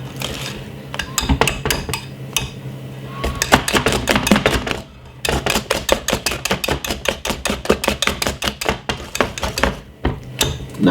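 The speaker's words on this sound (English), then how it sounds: "What we're going to do now is use the bad boy, the whisk. Give it a whisk." Sponge cake batter is whisked in a bowl, a fast run of sharp metallic ticks and clatters that is loud and close, keeping a steady rhythm with brief pauses and no talking over it.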